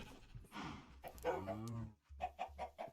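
Minecraft chickens cluck in a penned farm area, a short series of faint, choppy clucks and squawks that end in a quick rhythmic run of four or five notes.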